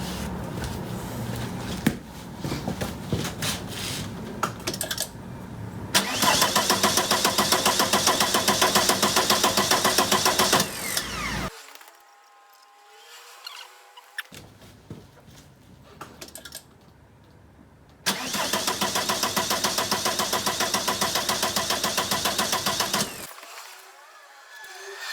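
An Audi A4 B5 1.9 TDI 110 AFN diesel engine cranks with no fuel reaching it, the starter churning in two long rapid rhythmic bursts separated by quieter stretches.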